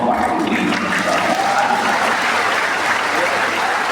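Crowd at a large religious gathering at a Purwokerto university applauding: a loud, continuous wash of clapping with a murmur of voices mixed in, steady for the whole stretch.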